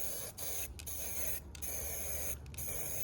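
An aerosol spray can lays a first coat of paint on a 1978 Datsun 280Z tail light bezel: close, hissing bursts of spray broken by several short pauses, with no talk.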